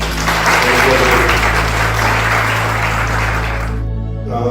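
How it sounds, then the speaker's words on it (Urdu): Loud, dense applause from a church congregation, sustained clapping that fills the hall before cutting off abruptly near the end. "تو آئیں یسوع مسیح کے لیے زوردار تالیاں"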